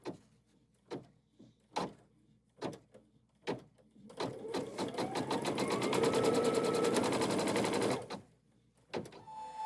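A quilting-in-the-hoop embroidery sewing machine stitching a fall leaves quilt block, a few short separate clunks first, then a steady, fairly close mechanical run of rapid stitching lasting several seconds before stopping; no one talks.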